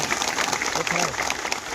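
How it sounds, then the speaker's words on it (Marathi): Strong applause for a Marathi school in Khalapur taluka, with the clapping sounding dense and steady throughout, as from a crowd, while voices murmur faintly underneath. "याच्यासाठी जोरदार टाळ्या होते"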